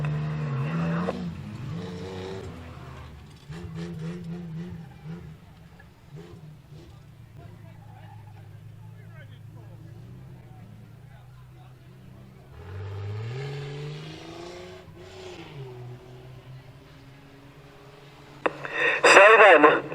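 Stock cars racing at Standlake Arena, with engines revving and droning through the clip, tyres squealing as one car spins out, and a sharp loud burst near the end. A commentator talks over the racing throughout.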